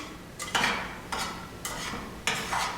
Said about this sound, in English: Stir those herbs around so that they're distributed evenly throughout your rice.